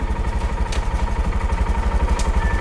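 A Honda Monkey motorcycle with a manual clutch idles in neutral, its small engine putting out a steady, close low-pitched thrum and throb with faint clatter. A couple of brief, higher bursts cut through, and no one speaks.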